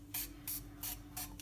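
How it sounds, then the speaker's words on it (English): Cooking oil spray hisses into a frying pan on a stove in four or five short, close bursts, each a bright airy spritz with brief pauses between, alone without talk. "so I'm just going to spray a little bit in the pan"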